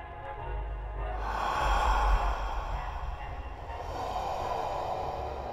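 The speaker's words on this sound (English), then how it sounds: "He's breathing." A creature breathes heavily in the horror video game Anemoia Within The Liminal, with slow, drawn-out sighing exhalations and snorts that sound fairly close amid low ambient drone.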